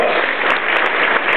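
A short, steady wash of audience clapping at a charity evening at Sheraton Forest, given for the volunteers and lasting barely a second and a half with a few crisp individual claps standing out.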